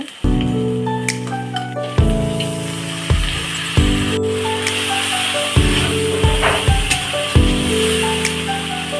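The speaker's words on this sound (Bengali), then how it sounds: "সামান্য পানি দিয়ে মশলা কষিয়ে নেব" Spice paste of chilli powder, cumin powder and a little water sizzling in hot oil, a continuous close hiss broken by repeated scraping and stirring strokes, with no talking.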